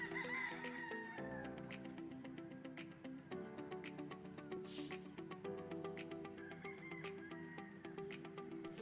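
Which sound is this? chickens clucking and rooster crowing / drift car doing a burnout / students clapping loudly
chickens clucking and rooster crowing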